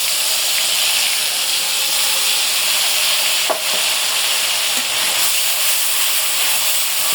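Onion paste sizzles in hot oil for a hilsa fish curry, giving a steady, close hiss and fry with a couple of faint clinks partway through.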